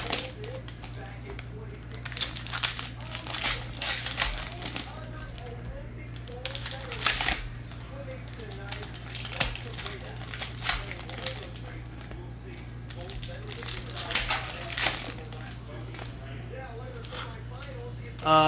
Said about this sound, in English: Just that pack, not wanting to rip properly.